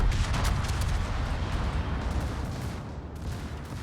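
Secondary guns on a French battleship blazing away in a naval warfare video game, a dense continuous barrage of rumbling booms and crackling blasts with no gaps.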